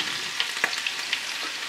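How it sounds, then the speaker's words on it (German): Root vegetables sear in a hot roasting pan while cooking for a wild boar dish, giving a steady close-up sizzle with a few sharp pops and crackles scattered throughout. "bratet dieses Wurzelgemüse jetzt auch noch mal schön scharf an, bis es Farbe trägt"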